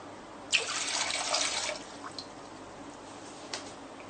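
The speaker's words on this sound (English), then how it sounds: "Start by putting in 3 cups of water" Water is poured from a tap into a pot to make gelatin for a giant gummy candy, a splashing rush lasting about a second, followed by a few scattered drips.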